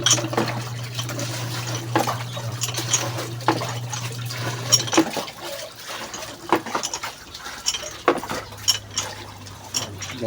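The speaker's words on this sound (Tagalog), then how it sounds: "bubumba ko dito ng tubig iniipon ko sa mga timbang maliliit" Water pumped by hand and collected in small buckets, with splashing and pouring that rises and falls unevenly and a steady low pump hum through the first half and again near the end.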